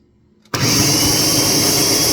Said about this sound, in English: Let me go ahead and mix out my no vegan turkey gravy